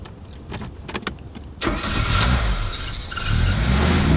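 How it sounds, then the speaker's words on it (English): Keys jangle and click near the ignition, then a car engine starts and settles into a steady idle with a slight rev, close by inside the vehicle. "We'll start it up then."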